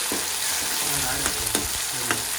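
Chopped tomato frying in hot oil in a pan with steady close sizzling, interrupted by several scraping stirs of a spoon; no talking.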